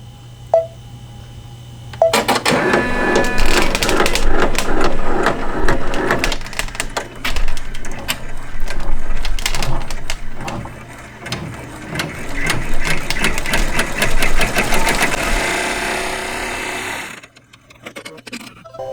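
An embroidery machine stitches out a Calico Garden Forget Me Not quilt block, its loud, rapid mechanical stitching running steadily for about fifteen seconds after a few quiet beeps, then stopping abruptly.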